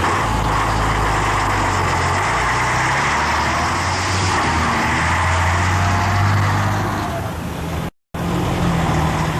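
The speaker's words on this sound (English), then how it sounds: "the trucks are noisy, modern and effective" Heavy trucks from a rock band's touring road crew pull away at night. Loud, steady engine rumble and road noise build and fade, with a brief cut near the end.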